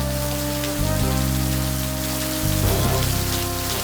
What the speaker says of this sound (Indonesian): Ibu nyuruh Centini keluar lagi hujan deras kayak gini